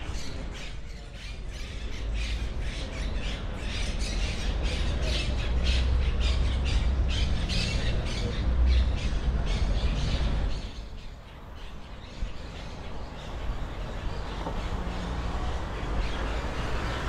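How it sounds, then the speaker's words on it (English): Loud, raucous parrot squawks repeat over a dense outdoor background in Puerto Banus, Marbella, Spain, harsh calls overlapping for most of the stretch before easing slightly near the end. "Parrots are making a racket."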